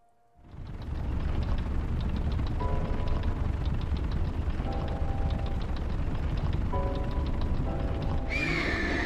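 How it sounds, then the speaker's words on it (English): A horse in The Legend of Zelda: Breath of the Wild whinnies over a loud, continuous rumbling game soundscape. Short tonal calls come and go through the steady background roar, and a brighter burst of effects arrives near the end. "Well, Horsey cannot go no more"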